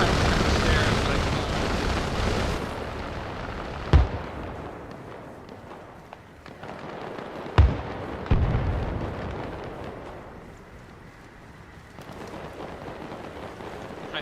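Gunfire in a jeep simulator video game, with a few sharp, loud bangs standing out over a rumbling, noisy game background, separated by irregular gaps.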